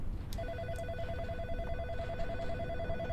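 A telephone ringing in the video game In Sound Mind, an electronic trilling ring repeating in quick pulses over a low background drone, steady and fairly close, with no talk.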